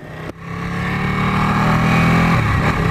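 A Ducati Panigale motorcycle engine drones while riding, a steady mid-pitched roar that builds slightly in loudness after a brief dip at the start and holds on throughout.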